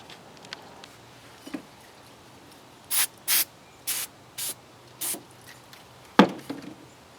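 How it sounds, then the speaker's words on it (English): Brake cleaner sprayed onto an engine part from a 1994 Chevy 5.7 350, heard as about six short, close hissing bursts from an aerosol can, separated by quiet gaps, with no talking. "I'm gonna spray some brake clean on this too"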